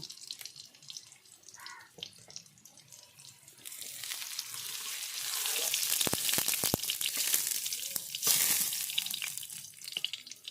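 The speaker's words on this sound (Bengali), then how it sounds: "তো এভাবে আমি সব লাল লাল করে ভেজে নেব" Cauliflower pieces frying in hot oil in a wok, a bright continuous sizzle that swells louder midway, with scattered scraping clicks and no talk.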